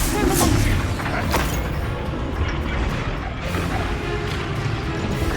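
Confringo fire-blast spell explosions in Hogwarts Legacy during a fight: loud, crackling blasts and crashes with sharp impacts amid continuous combat noise.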